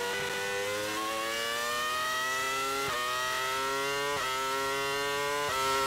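Formula 1 engine, Takuma Sato's 2005 car, held at full throttle on a wet Suzuka lap, screams loud and close with a steadily rising pitch, broken by three brief dips near four and a half seconds, six seconds and the end as gears change.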